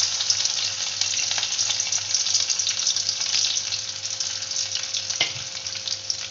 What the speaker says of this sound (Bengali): এবার প্রথমে আমি এই নারকেল কুচিটাকে ভেজে নেব।